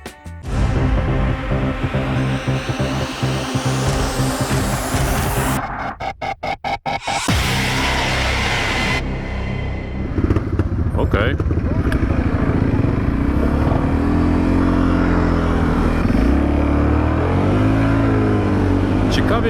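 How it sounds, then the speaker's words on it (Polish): A Segway AT5 500 ATV on a test ride, its engine droning and revving loudly with rising and falling pitch, a brief choppy stretch partway through, and wind and road rumble mixed in. "miałem przyjemność przejechania się najnowszym premierowym Segwayem AT5, czyli nowej 500 na rynku"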